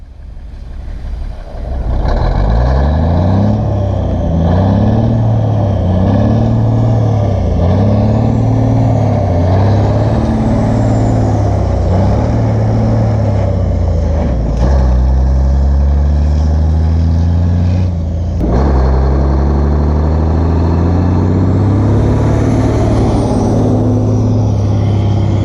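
A 1984 Kenworth C500 truck's engine idles loudly and steadily close by after its first start in 20 years, a deep rumble with rhythmic pulsing revs throughout and a brief clunk near the end.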